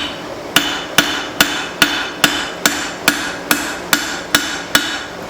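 A hammer strikes a spring steel cleaver blade while forging its bevel, about a dozen sharp ringing metallic blows in a steady, even rhythm, loud and close with no talk.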